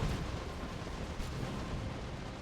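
Grenade blasts in the real-time strategy game Dawn of War II: Retribution, a dense, continuous rumble of overlapping explosions at steady loudness with no talk.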